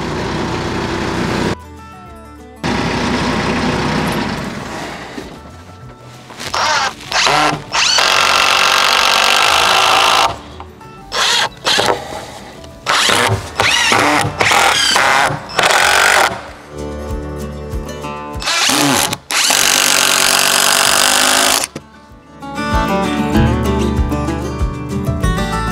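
A loud power drill drives screws into the wooden frame of a sawmill barn, with long high whines in repeated bursts and short pauses between screws, heard up close and on its own.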